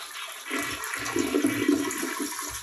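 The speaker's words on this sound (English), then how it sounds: "So the very first thing that we're going to do is flush the toilet." A toilet flushes nearby, a steady rushing swirl of water that builds and churns for a few seconds with no talking.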